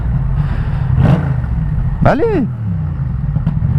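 A Yamaha MT-07 motorcycle rumbles along with a steady low engine drone and wind noise, a sharp rising and falling rev sweep around the middle, and a brief spoken word.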